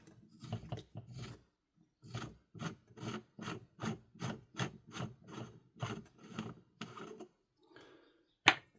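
Flash hider being unscrewed by hand from a VMP-2S airsoft rifle along a 40mm counterclockwise thread, heard as a close series of short, regular rasping turns, then a final sharp click.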